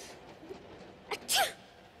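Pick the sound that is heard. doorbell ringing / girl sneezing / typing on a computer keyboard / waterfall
girl sneezing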